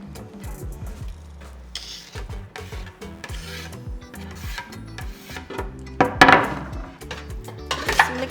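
Food tossed and stirred inside an air fryer basket, a steady run of scraping, rubbing clatter with a few louder rattling bursts near the end, close by and with no talking.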